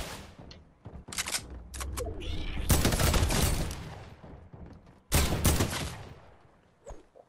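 Bursts of video game gunfire in a battle royale match, several sharp loud volleys and rapid shots separated by brief pauses, with a couple of isolated cracks near the end.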